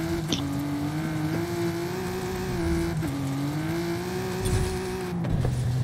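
A TVR car in Forza Horizon 5 runs a desert speed-trap stunt, its engine droning steadily and rising in pitch as it accelerates. A couple of brief dips in the note suggest gear changes, and no one talks over it.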